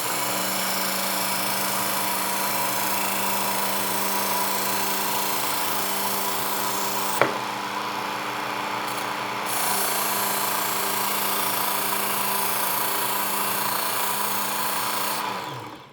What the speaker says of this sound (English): You can already see where it's shaping the edge